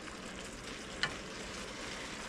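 Chicken stir fry sizzles quietly in a pan over lowered heat, a soft continuous crackle with one brief clink partway through.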